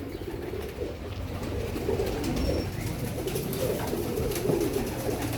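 Red-and-black beaded 'motiyon wala' pigeons coo in soft, steady low murmurs, overlapping continuously at close range with no talk.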